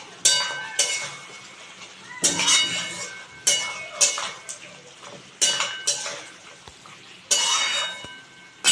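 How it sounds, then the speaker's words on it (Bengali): Metal lid lifted off a pot of mutton being braised for Bengali kosha, giving a series of close, bright clinks and clatters of metal on metal, with brief scrapes between them and quiet kitchen background. "আমি ঢাকাটা খুলে এবার দেখে নিচ্ছি, অনেকটা জল বের হয়ে গেছে"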